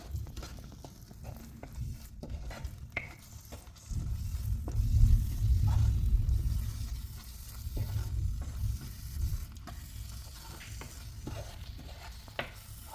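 Puli inji, a tamarind and ginger mixture with jaggery, stirred in an oily pan on the stove, giving a steady low sizzle and continuous scraping, stirring noises that swell in the middle, close and alone.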